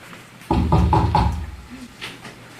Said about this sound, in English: And then, when his courage surpassed all his fear, he knocked.